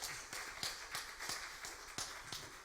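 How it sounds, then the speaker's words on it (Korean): A church congregation gives a round of applause, a faint steady rhythm of claps with sharp regular beats about every third of a second, heard from some distance with soft room noise. "우리 감사의 박수를 축복의 박수를 함께"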